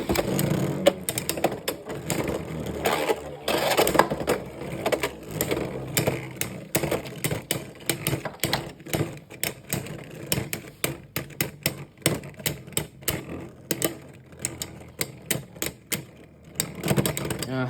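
Hasbro CX Beyblade spinning tops, Reaper Incendio T 4-70 K against Wizard Rod on 160 Wedge, clash in a stadium with rapid repeated metallic clicks and rattling impacts, and voices are briefly heard.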